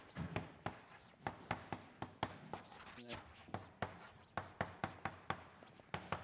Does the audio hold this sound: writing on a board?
yes